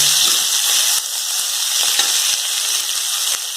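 Flat beans (ghevda) roast in hot oil in a pan, giving a steady bright sizzle with a few faint stirring scrapes, close and continuous without any voices.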